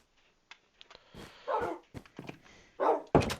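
A Minecraft dog barks and yips in short, uneven bursts, some louder and some faint, alone with no talking over it.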